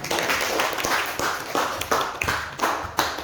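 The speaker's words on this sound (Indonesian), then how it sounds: "kasih aplaus untuk kelompok" Short spell of hand clapping from a small classroom group applauding a presenting group, a few dozen sharp uneven claps, close and moderately loud.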